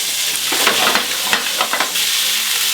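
Salmon pasta sizzles steadily in a frying pan while a utensil stirs and turns it, with a series of quick scraping clicks over the constant close hiss.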